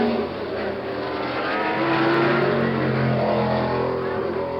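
A Can-Am race car passing the start-finish line at Mid Ohio in 1971, a loud, steady engine roar held close throughout with no talk over it.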